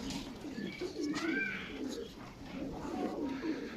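Pigeons coo softly near a feeding spot, low repeated coos with a faint whistling flutter, heard from close by against a quiet background.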